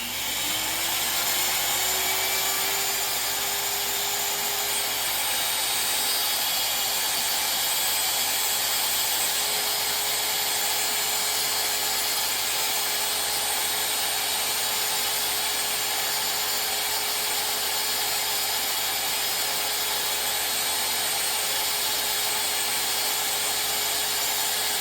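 A rotary moto tool polishes a groove in a model railway rail for a 90 degree Diamond Line crossing, giving a steady, loud, high-pitched whine that holds unbroken and alone throughout.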